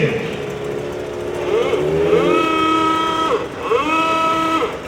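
A vintage DKW F5 car pulls away from a rally start line, its small engine revving up with rising and falling pitch, moderately near, under a loudspeaker announcer's voice.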